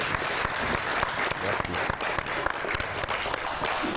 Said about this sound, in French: Mesdames et messieurs, que je vous demande d'applaudir, vous du public.